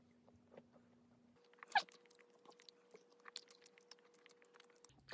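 Hard, crunchy dalgona candy being chewed close up, with faint crisp crunches and one sharper bite near the start, quiet and without talk.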